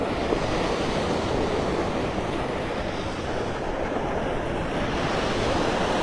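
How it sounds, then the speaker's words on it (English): Waves break and wash continuously onto the beach shore at Clam Pass Park in North Naples, Florida, a dense, steady roar of surf with wind buffeting the microphone. "There's waves breaking."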